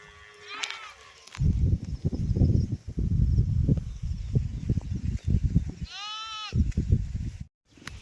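Sheep on a farm give two distinct bleats, one early and one near the end, over steady nearby rustling and shuffling movement.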